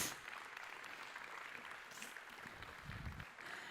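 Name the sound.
applause welcoming speaker to stage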